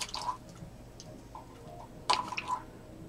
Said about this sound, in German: Das ist also dieser Alkohol, dieser da werde ich jetzt das reintropfen.